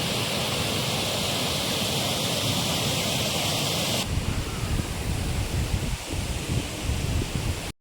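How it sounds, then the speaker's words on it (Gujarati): Water from an overflowing monsoon river at Mangrol roars steadily up close, then softens slightly with some handling bumps, the constant rush continuing until an abrupt stop. "નદી અત્યારે ઓવરફ્લો થઈ ગઈ છે"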